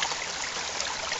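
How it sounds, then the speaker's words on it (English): Water sloshes and rushes steadily inside a bottle with a loosened lid as it is shaken during water purification, a continuous close, fairly loud wash of sound with no voices. "I'm also going to loosen this lid and just give it a little bit of a shake"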